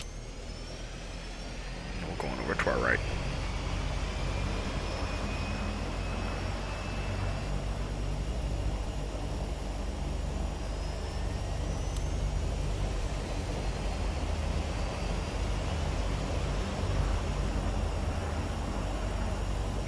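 Jet engines start up one after another on a simulated airliner in FSX, a steady loud rumbling roar with a brief rising whine early on and faint high-pitched spool tones drifting above the drone.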